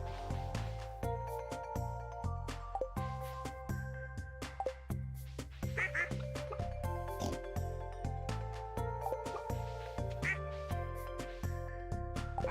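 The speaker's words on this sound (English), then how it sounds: "I like how we got that duck by just incubating an egg." A farm duck quacks in the Stardew Valley Expanded video game, short repeated quacks mixed with plinking game music throughout.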